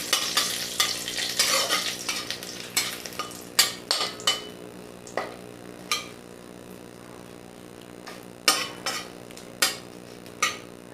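Dried red chillies and bay leaves stir-fried in hot oil for a rohu fish dish, giving a steady sizzle broken by repeated sharp scrapes and clacks of a spatula against the pan, close and fairly loud, with no talking.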